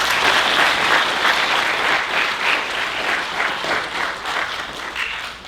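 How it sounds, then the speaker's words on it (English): Audience applause at an annual peace community event, a steady dense roll of clapping from a large crowd that holds fairly loud throughout, easing slightly toward the end. "Please give them a big round of applause."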